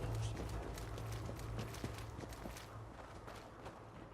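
Heavy footsteps in a video game thud in a steady, uneven series, faint and muffled under a low background hum.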